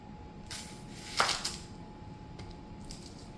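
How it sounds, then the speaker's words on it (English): A kitchen knife slices the roots off an onion on a cutting board, making two quick, close, moderately loud cuts about a quarter second apart against a quiet room background. "we're going to take our onion and we're going to cut off the roots"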